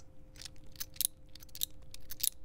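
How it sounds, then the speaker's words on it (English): A double-edged razor blade folding and crunching inside a Rex Konsul or Sentry razor during loading gives a few short, crisp clicks and crackles, close up and fairly quiet, with no talking. "That's the sound of the blade folding."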